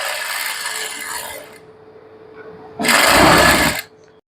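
A sewing machine stitches a pant seam in two bursts, a steady whirring run for about a second and a half, a pause, then a louder second run of about a second, close and clear.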